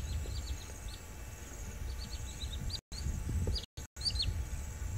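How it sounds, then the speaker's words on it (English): A common sandpiper gives a run of thin, high-pitched piping calls as it takes off, heard over low rumbling outdoor background noise, with brief dropouts in the sound. "That high-pitched, common sandpiper just took off."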